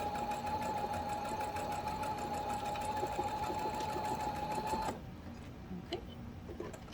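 A sewing machine stitches steadily to close a hole in a handmade book cover, a fast, even mechanical whir with a bright hum that runs about five seconds and then stops abruptly, leaving quiet handling noise.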